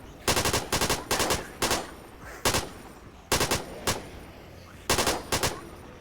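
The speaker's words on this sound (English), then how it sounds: "Like, I have an assault rifle." Assault rifle fire in the zombie survival game The Last Stand: Aftermath, loud close bursts of rapid automatic shots in about eight short volleys separated by brief pauses, with no talking.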